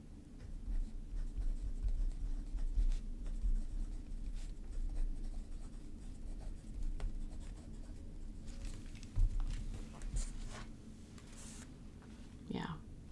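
A broad-nib Pilot Vanishing Point fountain pen scratches softly across paper in light, steady strokes while a person talks over it.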